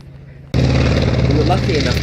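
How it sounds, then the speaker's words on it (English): A CAC Wirraway propeller aircraft at the 2018 Jamestown airshow starts its takeoff run: after a short quiet lead-in, a loud, close engine roar kicks in abruptly and holds steady with a pulsing throb. "We were lucky enough to witness the Commonwealth Air Company Wirraway taking off"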